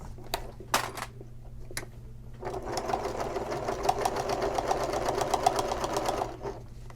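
Sewing machine stitching a seam on a shoulder bag, a steady rapid mechanical whir that starts after a few brief clicks and runs continuously for several seconds before stopping, close and fairly loud.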